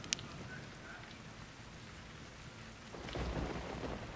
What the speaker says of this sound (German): Ja, klar, es regnet.